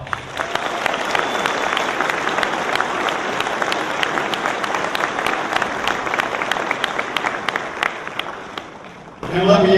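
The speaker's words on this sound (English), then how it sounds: "Again, let's give them a round of applause." Loud, sustained crowd applause at a Marine Corps birthday celebration in Branson, honoring Marine instructors, dense clapping filling the room before fading toward the end.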